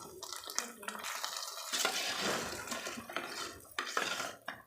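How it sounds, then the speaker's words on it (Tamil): A spoon steadily scrapes and stirs a sautéed mixture into cooked rice for pongal in a metal pot. The scraping is loud and close, runs almost without a break, and is set off by a few metallic clinks. "இப்போ நம்ம இதை வேக வச்ச அரிசியில் சேர்த்திடலாம். இதை நல்லா ஒரு கிளறிடுங்க"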